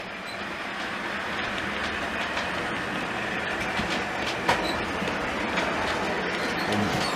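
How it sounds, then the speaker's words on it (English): Model railway Class 60 locomotive hauling a cement train, a steady rolling rumble with light clattering of wagons running continuously at moderate level, no voices. "So this time we've got the 60 coming through on the cement train."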